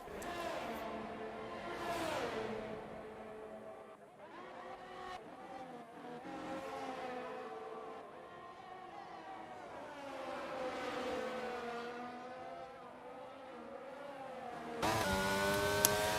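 Race cars in a racing video game at the Bahrain circuit roar along the main straight, engines whining up and down through gear shifts with a steady high pitch, fairly loud and close, one car sweeping nearer toward the end.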